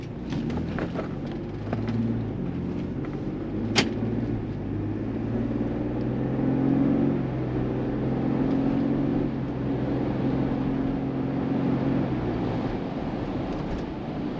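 A stock 2.7-litre Ford Bronco engine accelerates normally, giving a low steady rumble that swells and eases, heard from inside the vehicle at moderate level with no talking.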